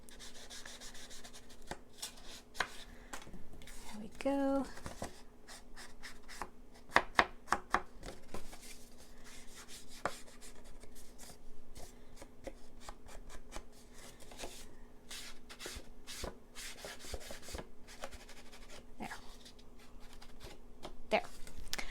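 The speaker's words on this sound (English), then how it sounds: "So I'm going to go ahead and ink this edge." Paper card edges are rubbed with an ink pad in a series of soft, close scraping and dabbing strokes, with brief talk now and then.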